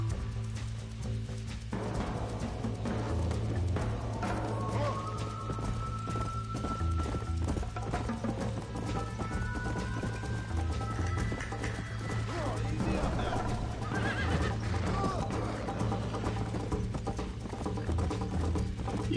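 Horse hooves clip-clop and a horse whinnies in the Western video game Red Dead Redemption, a steady galloping rhythm under a constant loud low rumble, with occasional crashes and a voice talking over it.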